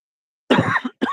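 One person gives a single close, harsh cough at an outdoor nighttime live broadcast, then a brief second cough burst, with silence before it.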